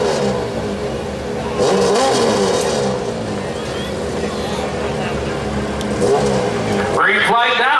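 Modified 1200 lb lawn tractor engine roaring steadily at a tractor pull, a loud sustained revving drone with crowd and announcer talk mixed in, swelling near the end.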